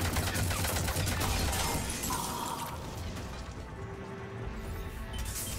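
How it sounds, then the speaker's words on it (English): Turret gunfire in a video game: a dense, loud burst of rapid crackling shots and impacts that continues for several seconds, then eases slightly while the rattling goes on, with no talk over it. "He like deployed a turret right on top of me."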